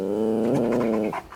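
A dog growls in one low, steady, rumbling snarl, close and moderately loud, trailing off into a brief breathy sound at the end.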